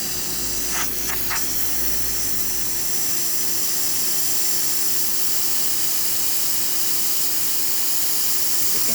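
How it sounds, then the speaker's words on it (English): Steam from the wand of a Breville espresso machine, a loud, steady, broadband hiss lasting throughout, with a few brief sputters near the start and a low hum that drops away partway through. "we can see more steam coming out of the machine"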